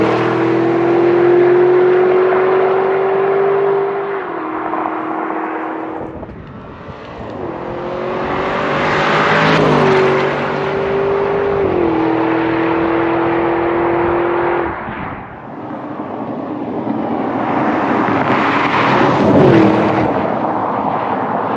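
A 2025 Audi SQ8 turbocharged SUV accelerates hard in repeated pulls. Each engine note climbs in pitch, drops at the gear changes and then builds again, loud and close with no talking.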